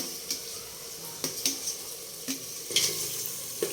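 Tomatoes being stirred into pulao masala in a pan, with a soft steady sizzle and a few distinct scraping clinks of a spoon against the metal, close and fairly quiet, with no talk.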